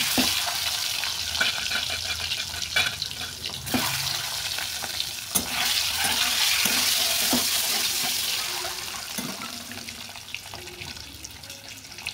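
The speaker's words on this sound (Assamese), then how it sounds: "তো এয়া আলু কণীখিনি ভাজি ল'ম" Potatoes fry in a pan in a home kitchen, giving a continuous hissing sizzle with scattered clicks and stirring knocks, with a brighter swell partway through.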